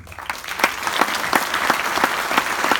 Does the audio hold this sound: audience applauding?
yes